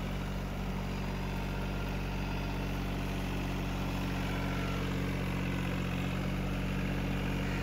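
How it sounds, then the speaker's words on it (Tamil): A Swaraj Target 630 29 hp mini tractor with a Yanmar engine works a hard, fairly dry field with a plough, its diesel giving a steady, unbroken drone close by throughout, with no talk over it. "பெருசாக ஈரலை கொஞ்சம் கடினமாக இருக்கிற ஃபீல்டில் தான் ஓடிட்டுருக்கு வண்டி."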